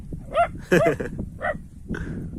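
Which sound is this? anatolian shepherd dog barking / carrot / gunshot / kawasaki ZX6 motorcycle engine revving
anatolian shepherd dog barking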